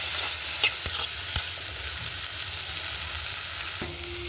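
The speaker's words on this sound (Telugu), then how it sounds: "టమాటాలు వేగుతున్నాయి ఫ్రెండ్స్." Tomatoes frying in a pan give a steady, close sizzle with a few sharp stirring clicks, no talking over it.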